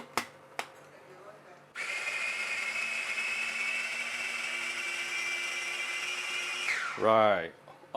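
A kitchen blender whirs steadily for about five seconds, blending ingredients for assam fish, then spins down; a couple of sharp clicks come before it starts.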